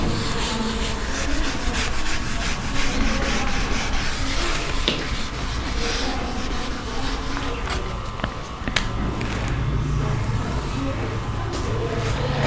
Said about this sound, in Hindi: मैं इसे अब रब कर देता हूँ।